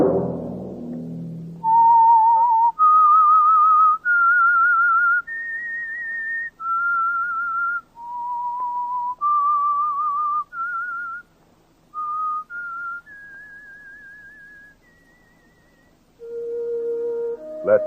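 A solo whistled theme tune from the radio drama The Whistler, clear, sustained notes rising and falling, with short pauses between phrases and no talking.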